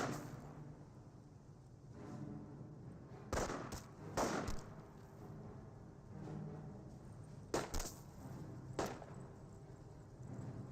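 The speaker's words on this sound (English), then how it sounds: "Sniper firing some shots." Sniper rifle shots in the strategy game Company of Heroes: a handful of loud, sharp isolated cracks spaced a couple of seconds apart over a low battlefield rumble, with no talk.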